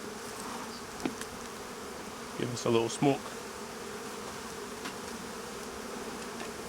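Honey bees buzz in a soft, steady drone around an open hive, close by and constant throughout, while a person speaks briefly partway through.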